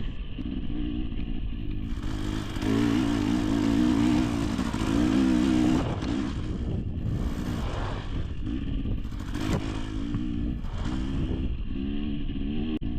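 A 250cc dirt bike engine revs hard and rises in pitch as the rider pulls a wheelie over a road during a race, a loud close buzzing roar with wind rush that eases and surges again.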